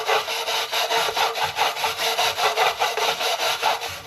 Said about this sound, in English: Get this whole wire brush down in there.